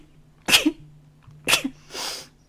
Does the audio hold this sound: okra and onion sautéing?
no